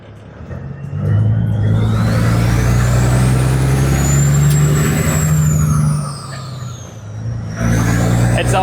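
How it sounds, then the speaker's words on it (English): A concrete truck with air brakes at a turn: steady loud low diesel rumble and engine drone, a high whine rising and falling, easing briefly before the rumble swells again. "Oh, we got a concrete truck"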